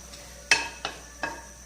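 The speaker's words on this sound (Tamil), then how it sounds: "இப்போ வரமிளகாயை போட்டுக்கலாம்." Dried red chillies dropped into hot sesame oil for a Tamil chutney tempering, three short crackling sizzle bursts with stirring between them, close and fairly loud.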